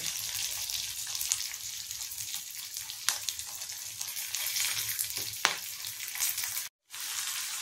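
Ginger and tamarind fry gently over low heat for chutney, a soft, continuous low sizzle with occasional faint stirring clicks, heard close and quiet with a brief dropout near the end.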